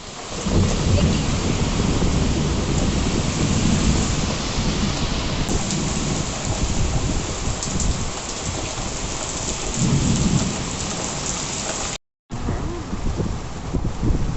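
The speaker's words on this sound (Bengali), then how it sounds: "তো চলো, এখন মেঘ ডাকছে, চলো ঘরে যাই।" Steady heavy rain pours with rolling thunder during the first hailstorm of summer, a dense continuous roar with low rumbles swelling twice, loud and close, briefly cut out near the end.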